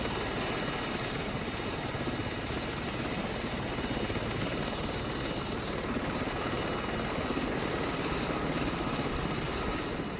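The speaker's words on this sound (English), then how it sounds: "Somehow I don't think these choppers were designed with heli-skiing in mind." A helicopter hovers and flies over a dormant volcano summit in Kamchatka, Russia, its rotor and engine roar steady and close, a dense continuous wash of noise with no voices.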